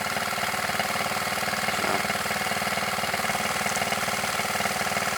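A 1971 Honda Z50 K2 mini trail bike's small single-cylinder engine idles close up at a lowered idle, a steady, even putter with a fast regular pulse throughout, no talk over it.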